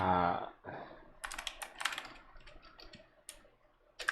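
Typing on a computer keyboard while setting up a FiveM game server, close clusters of quick key clicks in uneven bursts, after a short spoken word at the start.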